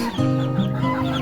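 Young free-range chickens cluck close by in a steady burst of short, throaty calls, several birds overlapping in a busy, continuous flock chatter.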